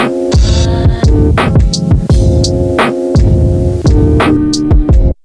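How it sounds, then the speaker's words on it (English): Roland SP-404 MKII sampler playing music through its cassette tape simulation effect, a loud, dense, throbbing beat with humming, hissy lo-fi warble and crackle, ending abruptly after about five seconds. "I've been very much vibing on the cassette sim."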